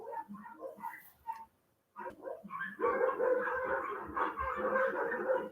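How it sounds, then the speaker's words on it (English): Dogs bark at neighboring dogs, with a mix of sharp barks and yips that start sparse, then build into rapid, continuous, agitated barking at close range. "My dogs are being crazy, barking at the neighbor dogs."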